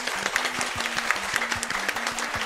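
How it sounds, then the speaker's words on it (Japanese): Audience applause at a live RTA in Japan Summer 2022 speedrun event after a Super Mario Bros. 3 run, steady dense clapping from a crowd throughout, with sharp individual claps standing out above the wash. "本日じゃあ奏者の、前場さんにもう一度大きな拍手をお願いします。"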